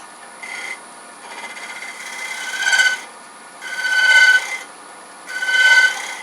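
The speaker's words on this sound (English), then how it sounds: "I think I'm going to just scrape it down" A scraper rasps along the proud edge of a wooden Roman-style flask spinning on a lathe, in three rising strokes with quieter spinning between, close and steady.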